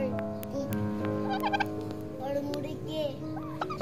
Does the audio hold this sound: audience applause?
no